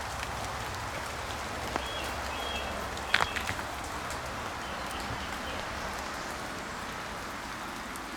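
Continuous steady rain pours down in a cemetery, a dense close hiss with scattered heavier drips and a brief clatter near the middle, no voices.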